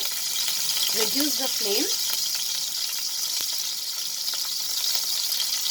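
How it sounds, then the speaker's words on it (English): Pressed garlic sizzles in hot oil in a karai, a close, steady hiss of frying throughout, with a brief stirring scrape near the start and a voice speaking over it. "Once the oil gets heated, we are going to add the pressed garlic."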